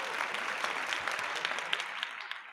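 A round of applause greets a guest on a podcast show, dense continuous clapping from several people holding steady throughout before tapering slightly at the end.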